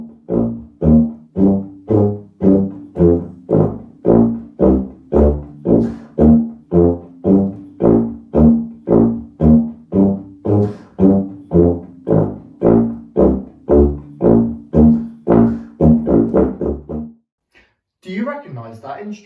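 A tuba plays a walking bass line from The Great Escape theme, a steady run of about thirty evenly paced low notes, loud and close, stopping abruptly with a short pause and a brief burst of sound afterward.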